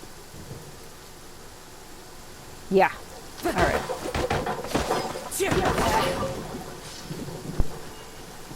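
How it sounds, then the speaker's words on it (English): A thunderstorm with rain in the video game Genshin Impact, with a bursting thunderclap followed by longer rolling rumbles over a steady rain hiss, with brief talk over it. "the weather just got dark and rainy all of a sudden"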